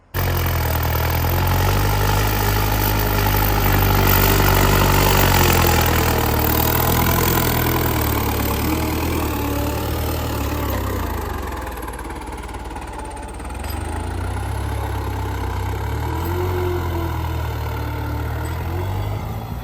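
A New Holland 5630 tractor engine idling close by, a steady low diesel rumble with a slight dip in level midway before settling back, running alone without talk.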